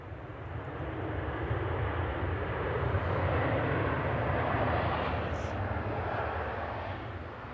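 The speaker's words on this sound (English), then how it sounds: "This is Etihad Dreamliner 787-10, A6BME flight 16 heading off to Abu Dhabi." An Etihad Boeing 787-10 Dreamliner departs Manchester Airport, its broad engine roar holding steady and loud across the whole stretch, swelling slightly in the middle with a deep rumble underneath and no voices.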